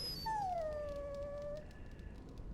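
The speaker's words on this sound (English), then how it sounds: "Bloody dog." In the Dragon Age: Origins video game, a dog gives one close, drawn-out whimper that slides down in pitch and lasts over a second, followed by quiet.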